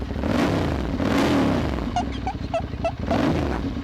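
Ducati Monster 795 ABS motorcycle from 2013, its engine revving up close in a couple of loud throaty surges, with a few sharp clicks in between.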